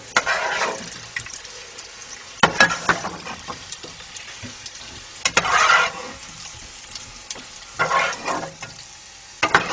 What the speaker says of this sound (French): on va les retirer de la poêle et on va faire revenir les paupiettes